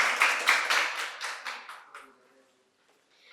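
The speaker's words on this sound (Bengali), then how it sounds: "একটা জোরে হাততালি হয়ে যাক ম্যাডামের জন্য।" An audience at a quiz competition held at Santiniketan Medical College and Hospital claps in short fading bursts for about two seconds before the room falls nearly silent.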